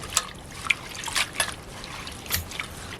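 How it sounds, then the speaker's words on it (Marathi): Leafy greens from the farm rinsed in a basin of water in a Kokan village kitchen, with close, soft trickles and a few brief splashes and drips at irregular moments, no talking. "पालेभाज्या आहे ना चिरायच्या अगोदर अशा धुवून घ्यायच्या"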